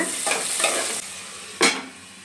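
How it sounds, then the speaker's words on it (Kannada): Onions fry in a pan for a fenugreek and green-pea pulao, a steady close sizzle with a few stirring scrapes and a sharper sputter near the end. "ಈರುಳ್ಳಿ ಹಾಕಿ ಕೆಂಪಗಾಗೋ ತನಕ ಫ್ರೈ ಮಾಡ್ಕೊಳ್ಳೋಣ"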